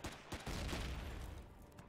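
Gunfire in the sci-fi survival game Empyrion Galactic Survival, a quiet rapid burst of repeated shots followed by a low continuous rattle, with no talk.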